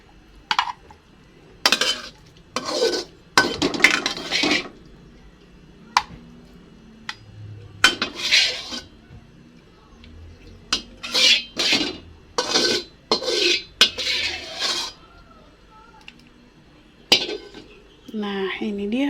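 Stir-fried cassava leaves scooped out of a pan into a bowl after the stove is switched off, making scraping, clinking metal-on-pan strokes in irregular bursts, close up, with light talk in between.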